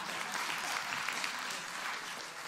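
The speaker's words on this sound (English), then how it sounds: "This is a clapping moment." A church congregation claps together in a sustained burst of applause, dense and even for a couple of seconds.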